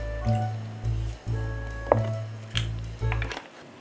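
Chilled water pours into a gond katira lemon sharbat in a series of close, rhythmic glugging pulses, several bursts in a row with brief pauses between them.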